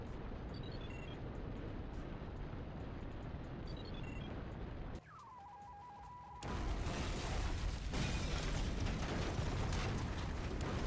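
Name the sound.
explosion in the power room in the video game Syphon Filter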